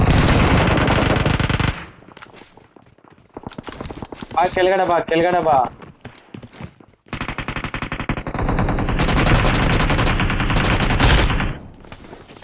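Automatic gunfire in the mobile battle-royale game BGMI (PUBG Mobile), rapid bursts of loud shots in bright rattling volleys, broken by quieter gaps, with a player talking over the game sounds.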